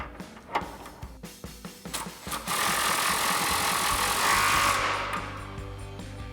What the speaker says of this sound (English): Now we can go ahead and tighten down our top mount here using our 19mm socket on our impact.